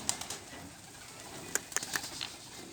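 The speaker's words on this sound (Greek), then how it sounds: "Και ακουστήκαν τα περιστέρια" Pigeons arriving outdoors in a light breeze, giving a few short, faint coos and calls scattered over quiet background air, with a brief flutter of activity near the end.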